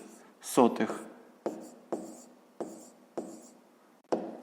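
Numbers written by hand on paper for a fifth-grade maths exercise, a few close pen scratches and taps repeated at regular intervals, with a short burst of speech near the start.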